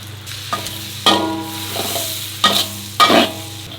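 Onions stirred into a hot pan of melted butter and black pepper, sizzling and frying, with several loud scraping stirs at intervals over a steady low hiss.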